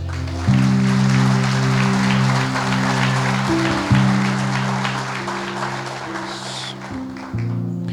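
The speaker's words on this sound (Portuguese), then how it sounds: "Quem acredita, aplauda o Senhor." A church congregation claps steadily for several seconds while sustained organ or keyboard chords play beneath.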